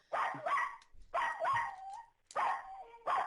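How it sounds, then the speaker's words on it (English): A dog barks close and loud in a series of about four bark bursts, each a clustered double yelp, with brief quiet gaps between. "That's him barking."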